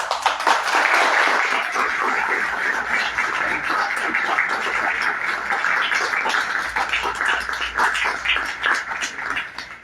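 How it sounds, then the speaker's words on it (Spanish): An audience at a book presentation claps continuously for about ten seconds, a dense, even wash of many hands that stays loud throughout and thins a little toward the end. "Un fuerte aplauso para María Cleofe Acosta."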